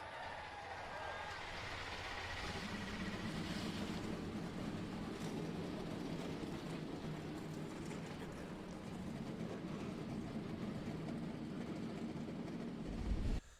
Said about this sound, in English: Engines are fired here at the Pocono Raceway as these cars begin to warm up